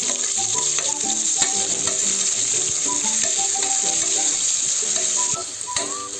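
Onions frying in oil for sweet corn pulao give a loud, continuous crackling sizzle close up, with a constant high hiss that drops slightly near the end and no talking.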